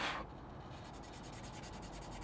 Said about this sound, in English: start sanding away at the plastic